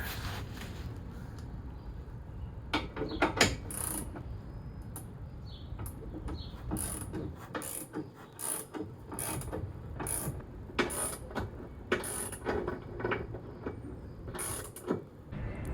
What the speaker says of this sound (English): I'm going to go ahead and screw in the rest of the bolts with a socket